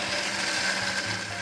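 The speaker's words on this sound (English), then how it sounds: "She puts them in a blender with the plumped chilies." A blender whirs loudly and steadily, grinding toasted spice berries together with plumped chilies into a sauce base, one continuous close mechanical drone with no voices over it.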